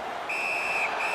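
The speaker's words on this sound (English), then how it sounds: "That puck is held and the whistle stops play." A referee's whistle in an ice hockey game shrills in one sustained blast, briefly dips, then resumes, cutting over the dull arena background.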